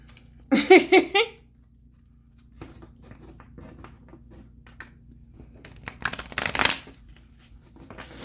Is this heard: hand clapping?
no